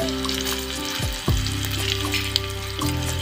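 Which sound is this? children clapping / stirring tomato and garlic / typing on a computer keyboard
stirring tomato and garlic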